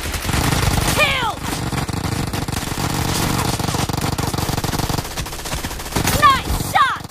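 Rapid machine gun bursts in a shooter video game, dense continuous rattling fire with a few whistling ricochet-like effects, loud and close, while a game announcer speaks over it.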